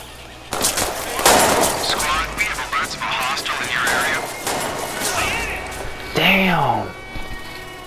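Rapid AK rifle gunfire and crashing impacts in the Watch Dogs 2 video game, loud bursts layered with game effects while someone talks over the action.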